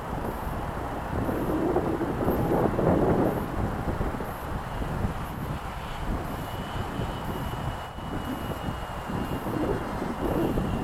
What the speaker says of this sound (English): you can see with the plane it's trying to turn left when it takes off